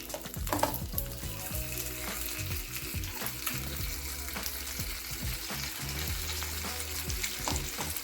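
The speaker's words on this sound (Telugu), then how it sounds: "ఇలాగే లో ఫ్లేమ్లో రెండు మూడు సార్లు అటు ఇటు తిప్పుకుంటూ ఫ్రై చేసుకోవాలి" Crispy fish pieces fry in oil on a low flame, giving a dense, continuous sizzle with scattered pops and the clicks of the pieces being turned in the pan.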